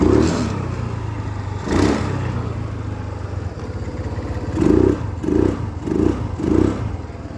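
A TVS Jupiter 110 scooter fitted with a UNI performance air filter idles with a steady low engine hum, then gives several short throttle blips in a row, each a rising rasp, close and fairly loud.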